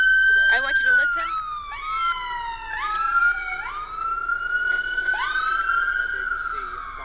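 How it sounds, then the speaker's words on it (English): An ambulance's wailing emergency siren sweeps up and down in pitch repeatedly as it leaves a private road, loud and close, with a voice speaking faintly underneath. "we are seeing the ambulance coming out from Jefferson Crossing"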